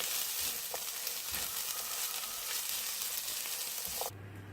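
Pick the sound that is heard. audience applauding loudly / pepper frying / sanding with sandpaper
pepper frying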